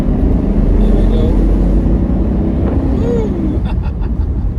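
The V8 engine of a 1986 Mercedes-Benz 560SL roadster idles loudly and steadily up close with a deep rumbling drone, while a person talks briefly near the end.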